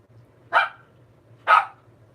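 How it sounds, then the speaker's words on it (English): A dog barks twice, sharp and close, about a second apart, over a faint low hum. "He's barking because he wants more than what's in his bowl."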